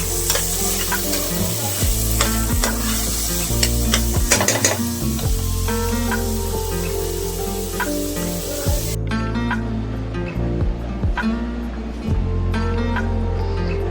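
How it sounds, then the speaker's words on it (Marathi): A large onion fries in oil with cinnamon, cloves and black pepper for Agri-style chicken vade, making a loud, steady sizzle with frequent spoon clinks and scrapes throughout. "आपण इथे एक मोठा कांदा परतून घेतला."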